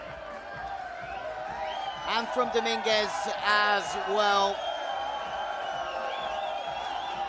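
Crowd at a men's padel semifinal in the Bet City Arena, Rotterdam, cheering and whooping in short bursts beneath a commentator's voice, rising and fading over a steady arena hum.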